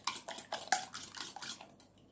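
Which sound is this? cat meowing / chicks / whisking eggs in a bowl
whisking eggs in a bowl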